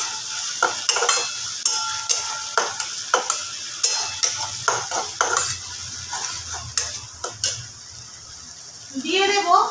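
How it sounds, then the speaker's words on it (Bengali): Chicken coated in spice paste is stir-fried in a pan, with repeated close spatula scrapes and clacks over a steady sizzle. "এবার ভালো করে কষে নেব"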